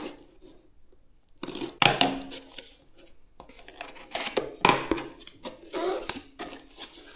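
A CPU cooler box is unboxed during a budget RGB PC build: sharp cardboard and plastic rustles, flaps and scrapes in bursts close by, separated by short near-silent gaps, with no talking.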